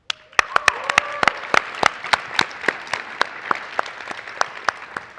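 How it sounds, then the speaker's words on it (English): Audience applause at the 2025 JAG Awards ceremony, a crowd clapping steadily with a few sharp, loud individual claps standing out, sustained throughout with no talk over it. "prepare your applause"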